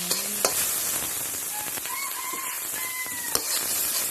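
Steady sizzling of curry paste frying in a hot pan, with occasional scrapes and knocks of a utensil stirring, close and continuous.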